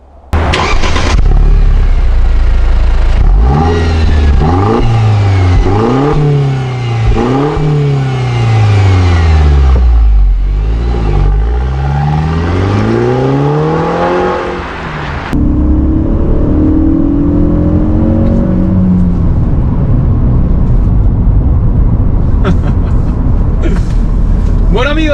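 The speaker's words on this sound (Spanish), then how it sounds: "ya nos estamos divirtiendo conduciendo este Mercedes SLK" A Mercedes SLK 200 roadster driving and accelerating hard, its engine rising and falling through several revving gear changes, loud and close from inside the car, then settling into a steadier cruise with road noise.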